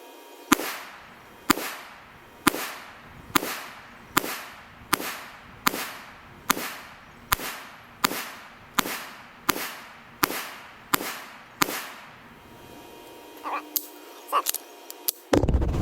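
A Smith & Wesson Bodyguard 380 micro compact pistol fires about fourteen sharp, evenly spaced shots in a steady rhythm. A few faint clanks and a brief voice follow after the shooting stops.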